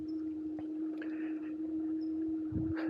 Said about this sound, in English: now let's just try the motor